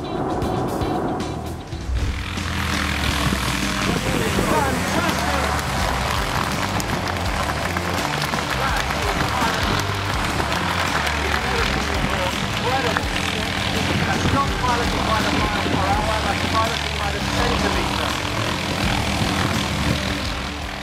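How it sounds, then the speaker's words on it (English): Loud, steady roar of a large Boeing 777 airliner's engines and airframe rumbling through turbulence, continuous and close from the cabin, with a brief quieter stretch at the start before the noise builds and holds. "Ever wondered what happens when a massive Boeing 777 hits turbulence?"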